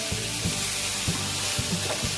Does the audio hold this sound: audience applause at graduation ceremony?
no